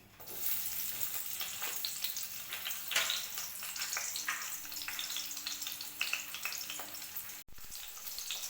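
Chopped onions sizzle in hot oil in a pan while chicken momos are being made, a continuous close crackle and hiss with brief stirring knocks and one short drop-out near the end, and no talking.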